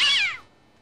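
A single short, clear cat meow from a video game, sounding close and fading quickly into near silence after the cat is thrown.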